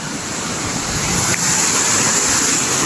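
Loud, continuous rushing of flowing spring water close by, a steady broad hiss without pause.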